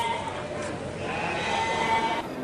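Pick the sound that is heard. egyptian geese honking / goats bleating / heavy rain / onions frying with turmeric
goats bleating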